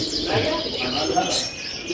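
A brief burst of soft cooing and chirps from Dubwale pigeons kept in a Sharjah loft, close and steady, with someone talking over the birds.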